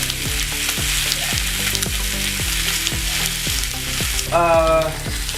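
Pork ribs fry and sizzle steadily in a hot pan while browning for honey-glazed ribs, with a rhythmic series of soft pulses throughout and a brief scraping, stirring burst near the end; no one speaks.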